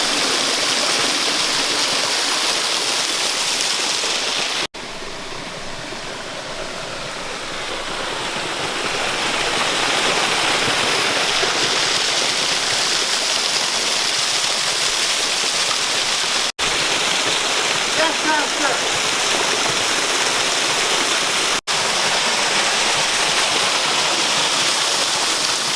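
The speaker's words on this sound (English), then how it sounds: "get some B-roll of the waterfall" A waterfall roars steadily and loudly up close, a continuous broadband rush of falling water with brief cuts between shots and no talking.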